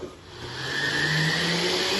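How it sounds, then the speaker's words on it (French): A kitchen blender purees cooked tomato sauce for spaghetti all'arrabbiata with a loud, continuous motor roar that builds slightly in strength and then holds steady. "On va venir passer notre tomate au mixeur"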